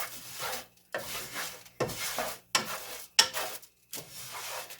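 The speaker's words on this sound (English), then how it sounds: "They are starting to sizzle already." Noodles browning in a thin layer of oil, rhythmic scraping stirs about every 0.8 seconds, each a rough sizzling rasp separated by brief near-silent gaps, close and moderately quiet.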